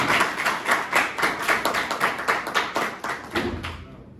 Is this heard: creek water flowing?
no